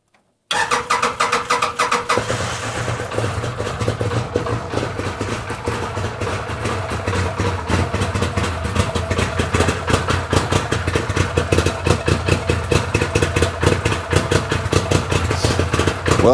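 A 2014 Arctic Cat Wildcat 1000X V-twin, said to run rich, cranks briefly, catches and settles into a loud, steady, close idle with a lumpy pulsing rhythm.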